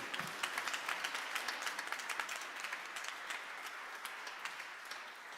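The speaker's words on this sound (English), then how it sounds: "another round of applause" An audience at a Christmas jazz concert applauds steadily, dense clapping that holds throughout and slowly tapers toward the end.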